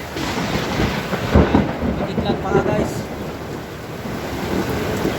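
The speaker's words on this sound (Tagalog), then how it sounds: "malakas talaga yung ulan kanina pa malakas yung ulan dito" Heavy rain pours continuously while thunder rumbles and cracks loudly around the middle, close and dense, with a voice speaking briefly over the storm.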